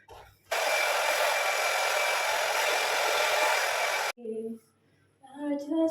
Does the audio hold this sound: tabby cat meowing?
no